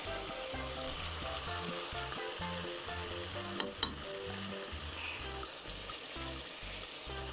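Food fries in a hot pan with a steady, crackling sizzle throughout, close and fairly loud, broken by a couple of sharp clinks partway through.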